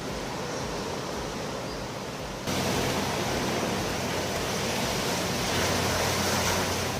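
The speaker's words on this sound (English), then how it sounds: "I think the tide's coming in, so we don't want to get stuck on it." Surf rolls onto a Japanese coast as the tide comes in, a steady broad wash of waves that grows slightly louder partway through, with no voices.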